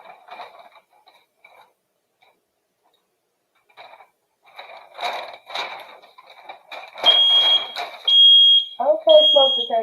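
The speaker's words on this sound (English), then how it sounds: "Okay, smoke detector." A smoke detector beeps in loud, repeated high tones during sublimation printing work, with people talking and moving about before and between the shrill bursts.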